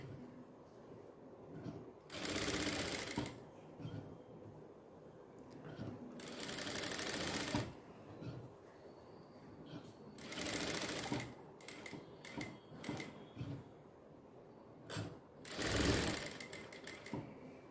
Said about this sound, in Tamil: இப்போ வந்து இது நான் வந்து எப்போ தைக்கிற மாதிரியே தைச்சிடுறேன்